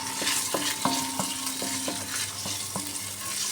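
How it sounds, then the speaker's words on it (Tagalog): White onion sautés in butter in a pan, a steady close sizzle broken by regular clacks and scrapes of a utensil stirring, several knocks in a loose rhythm, no voices. "Gisa natin yung ating onion sa butter."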